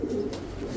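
A military-breed pigeon coos in low, soft throaty tones, close by and steady, with no talking.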